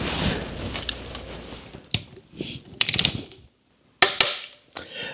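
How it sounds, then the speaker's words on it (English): A ratcheting torque wrench tightens the oil filter head bolts on a Scout engine under assembly, giving close, crisp bursts of clicks separated by short pauses and a moment of silence. "I'm torquing these bolts to 25 foot-pounds."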